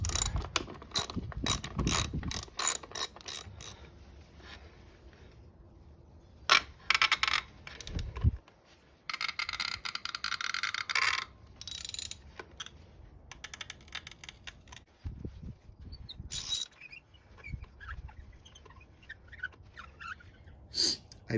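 Ratchet clicking with a magnetic 14 mm socket while unscrewing spark plugs on a 10th generation Honda Civic: bursts of rapid metallic clicks and clunks, close and fairly loud, with pauses and brief handling noises between.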